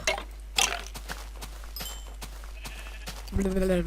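A sheep bleats in the video game Minecraft, a clear nasal bleat arriving near the end after scattered clicking footsteps and game sounds, with someone talking over the scene.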